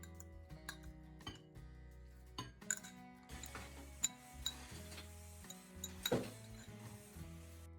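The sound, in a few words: fork mixing garlic and salt in a bowl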